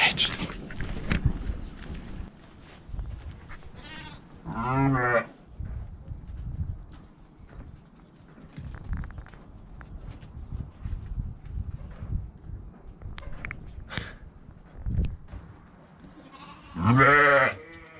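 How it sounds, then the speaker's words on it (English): Sheep inside an abandoned power plant bleat several times, loud and close with an echoing ring, spread across the clip between quieter rustling and footsteps. "We had no clue where those sheep came from all at once"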